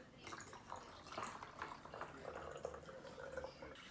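Leftover water is poured into a rain gauge to stand in for rain, giving a soft trickle with light drips and splashes that stays quiet and close, with no voices.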